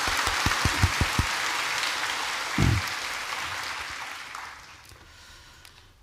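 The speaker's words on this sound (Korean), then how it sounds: "박수를 드리겠습니다." A church congregation at a Sunday service in Korea applauds, beginning with a few distinct claps that swell into a full round, then slowly fade away to near quiet.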